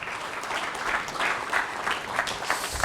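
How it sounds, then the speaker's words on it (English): Steady, moderately quiet applause from a lecture audience welcoming a researcher forward at an astronomy talk on gravitational waves from merging neutron stars, an even patter of many hands clapping throughout. "round of applause for Kendall"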